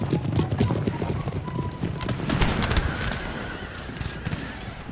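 Cavalry dragoons gallop out of a city in Empire: Total War, a rolling mass of hoofbeats with a horse whinny and scattered battle shots, while someone talks over the din.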